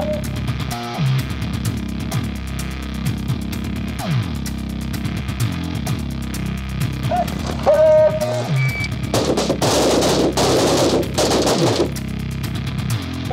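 Gunfire at an outdoor shooting range, with several sharp shots and bursts scattered through a busy, noisy background, followed by denser crackling near the end.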